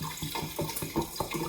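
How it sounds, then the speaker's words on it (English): Water pours into a Pinter home brewing machine up to the fill line, a close, rhythmic gurgling splash with repeated pulses and no voices. "Add water to the fill line."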